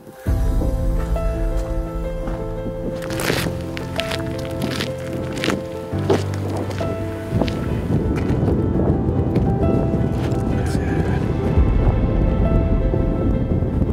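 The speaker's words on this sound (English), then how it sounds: "with the storm coming. It's getting pretty windy" Gusty wind before an approaching storm roars and buffets nearby on Dugi Otok Island, Croatia, mixed with rumbling and rattling, growing into a steady rushing noise toward the end.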